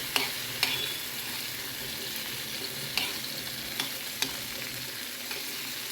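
Frying for a tomato and sesame chutney, a continuous close sizzle broken by several sharp clicks of a spoon stirring the pan, with no talking.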